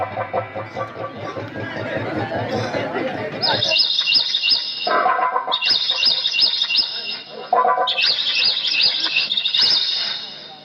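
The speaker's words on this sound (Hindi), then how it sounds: "चिड़िया बोल रही है।" Birds chirping near a hill fort in India, bright rapid repeated tweets in several close bursts after a stretch of people talking, fairly loud and clear.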